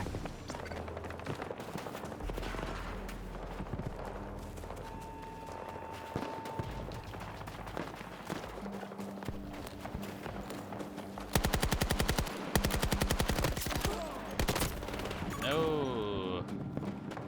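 Rapid bursts of AK rifle fire in a video game battle, crackling in dense volleys that grow louder and harsher toward the end, mixed with game music and effects while a voice talks over them.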